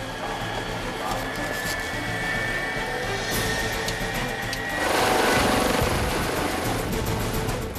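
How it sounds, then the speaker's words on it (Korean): A 119 fire aviation rescue helicopter at Gimpo Airport spools up before takeoff, a steady whining turbine drone that swells into a louder rushing roar partway through, close by with faint voices underneath. "헬기가 이륙을 준비한다."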